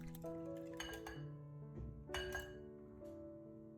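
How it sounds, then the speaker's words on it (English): Eggs whisked together with dried parsley, chili powder and other seasonings in a bowl: soft, quiet clinks of utensil against the bowl in a few quick strokes, with faint tonal ringing in a calm kitchen. "Whisk everything together until smooth and well combined."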